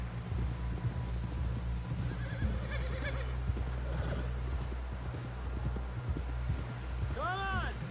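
Rapid hoofbeats of a galloping horse in Red Dead Redemption pound steadily under a low rumbling drone, with a loud whinny rising near the end.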